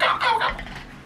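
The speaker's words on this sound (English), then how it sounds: "some turkeys out in the field" A short burst of turkey gobbling, a warbling rapid call that rises and fades, heard clearly at moderate distance.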